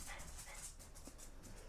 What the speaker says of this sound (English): Your dog's barked hello back to Angel.